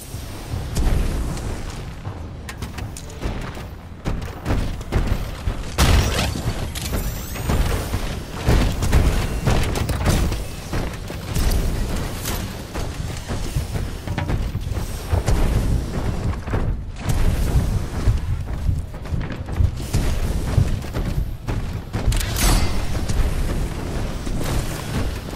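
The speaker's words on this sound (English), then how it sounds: "We've got incoming enemy mortar titans. They lob rockets from a distance." Mortar titans in the Titanfall 2 video game lob rockets that land in repeated heavy explosions, loud booms and bursts piling up over a dense, continuous rumble of battle.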